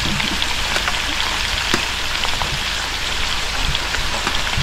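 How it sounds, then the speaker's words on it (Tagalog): Rain falling outside, a dense, steady patter of drops on surfaces, loud and close and continuous throughout, with no talk. "Umulan sa labas."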